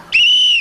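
A single whistle is blown as a test, giving one short, loud, steady shrill blast of under half a second that stops cleanly.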